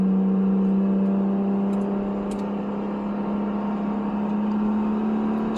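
An Acura TL with a misfire, recently repaired for rod knock, accelerates hard on a cold day, its engine droning loud and steady with a strong low harmonic, close by, with no talk.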